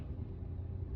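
A car engine accelerates during a driving lesson, a low steady rumble heard from inside the cabin for about a second, with no voices over it.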